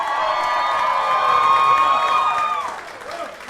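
A jam-packed crowd in a club venue cheers and whoops loudly together in a sustained roar that swells and then fades away.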